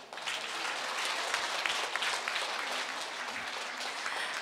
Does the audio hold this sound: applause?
yes